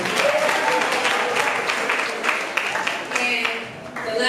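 A school audience at a girls' senior high debate and quiz contest claps and cheers continuously, dense and fairly close, with voices mixed into the crowd noise throughout.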